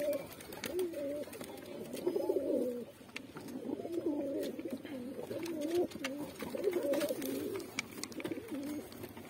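Pigeons with newly hatched chicks coo nearby in repeated soft, throaty phrases, fairly faint, with light background noise and occasional clicks.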